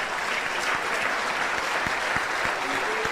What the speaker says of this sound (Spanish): Ese aplauso es de gratitud a Dios